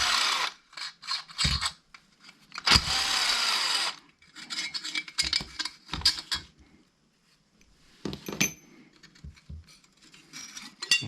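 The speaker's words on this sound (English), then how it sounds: "let's take this muffler off. 2 bolts in the front." Power tool work on the muffler bolts of a Husqvarna 346 XP chainsaw during a top-end rebuild: short bursts of whirring and rattling tool noise, close and fairly loud, separated by pauses and handling clatter.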